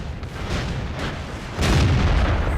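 A KV-1 tank cannon fires in World of Tanks, a heavy booming blast with a second louder report arriving midway, loud and close over a constant low engine rumble.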